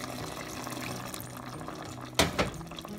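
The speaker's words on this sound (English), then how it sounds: "I'm going to add about 3 tablespoons of vinegar" About three tablespoons of vinegar poured into a pan for sweet and sour pompano, a brief close liquid splash near the end after a quiet stretch of low room noise.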